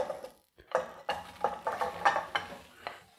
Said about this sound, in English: So now just whack your red onions in.